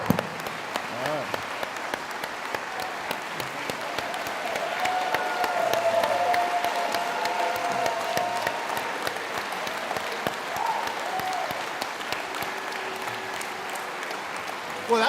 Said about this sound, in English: Well, that's a nice applause